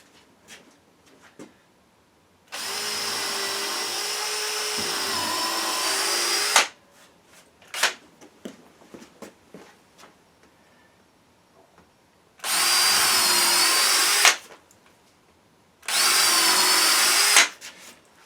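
A power drill boring through a 4x4 wooden post whines loudly in three separate bursts. The first is the longest, and short pauses between bursts carry faint handling noise.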